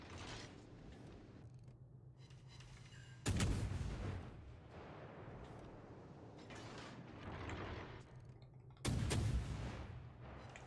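Heavy naval guns boom from warships in World of Warships Legends, two big loud salvos standing out above a rumbling, creaking battle ambience with lighter shots in between.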